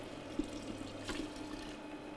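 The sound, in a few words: water poured into a Kenwood Cooking Chef soup pot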